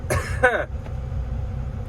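A single harsh cough or throat-clearing burst near the start, followed by a steady low rumble of an idling engine.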